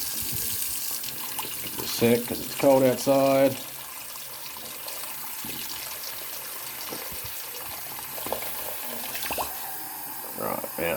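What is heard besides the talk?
hot water running from a tap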